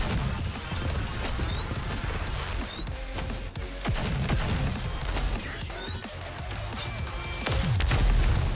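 Dense, continuous gunfire in the mobile shooter NIKKE, with rapid volleys and heavy impacts filling the whole stretch, loud and close, swelling toward the end.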